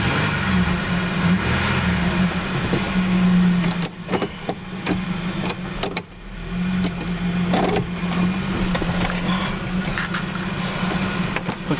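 A 2003 Ford Ranger XLT engine runs loudly close by, holding a steady hum and rising in a couple of revs, with a few sharp knocks and clicks partway through and no talk.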